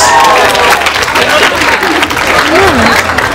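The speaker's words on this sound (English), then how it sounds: "Give her a round of applause." Round of applause from the audience at a curly hair event, loud and sustained, with crowd hubbub and voices mixed into the clapping throughout.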